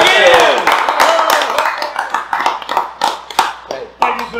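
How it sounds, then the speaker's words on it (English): A small crowd breaks into a round of clapping for a military veteran at a bourbon tasting, loud and close at first, then thinning into scattered claps under talking voices. "We're gonna have one more round of applause because your service in the military."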